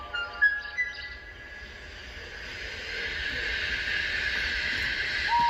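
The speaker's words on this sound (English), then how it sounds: "When Henry had got up steam, he puffed out." A steam engine pulls out with a steady, rising chuff and hiss over a continuous mechanical drone, growing slightly louder, with brief whistle-like tones near the start and end, no voices.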